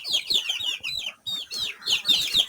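Month-old chicks chirp continuously in rapid, high-pitched overlapping peeps, close and fairly loud, with brief gaps between bursts.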